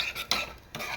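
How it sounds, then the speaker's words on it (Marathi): A spoon stirs dal into a hot tempering in a pot, giving two or three quick scraping sweeps against the metal with a faint sizzle underneath, close and brief. "ही डाळ याच्यामध्ये छानपैकी अशी ढवळून घेतली मी"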